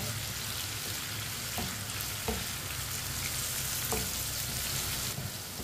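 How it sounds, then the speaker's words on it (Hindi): Tomatoes sizzle and fry in a pan for palak saag, with steady close crackling and occasional scrapes and clicks as a spoon stirs them. "इसे ऐसे ही चम्मच चलाते हुए पकाना है।"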